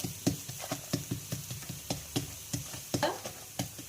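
A bottle gourd dhapata flatbread frying on a pan, with rhythmic spatula pats and scrapes at about three per second over a faint sizzle, close and fairly quiet.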